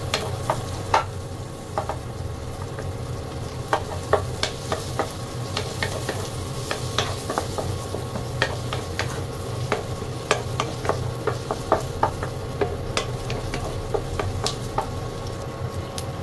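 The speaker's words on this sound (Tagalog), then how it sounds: "Halo natin yung sibuyas at luya." Onion and ginger stirred into garlic sautéing in a pan for pork sinigang, with steady close sizzling and frequent scraping, clacking spatula strokes throughout.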